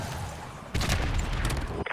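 Gunfire and explosions from the video game Call of Duty: Modern Warfare 2 Remastered, a dense, loud burst of shots and booming blasts that swells midway and stays heavy, with no talk.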